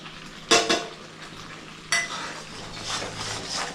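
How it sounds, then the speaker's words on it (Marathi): Spices are stirred into Konkani masala paste in a pan: a spoon clanks loudly against the metal twice over a soft, continuous sizzle and scraping. "आता इथे आपले हे मसाले सगळे टाकते"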